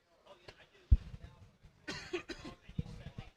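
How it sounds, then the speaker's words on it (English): A man coughs a few times in quick bursts, close and sharp, with throat-clearing sounds and some talk around the coughs in a sports talk show setting. "If I can stop coughing"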